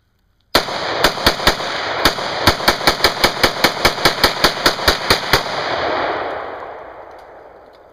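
Rifle shots at a camp crack out in a rapid series of about twenty sharp, loud, close reports. The last one fades into a lingering rumble of echo.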